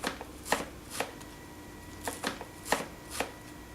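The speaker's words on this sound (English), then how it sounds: "Now we're going to cut the celery and cilantro." A knife chops celery and cilantro thinly on a cutting board, making sharp, close knocks that come in small clusters with short pauses between them, with no talking.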